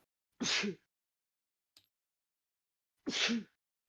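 Two sharp sneezes, about two and a half seconds apart, each bursting out of silence, close and loud, with a tiny click between them.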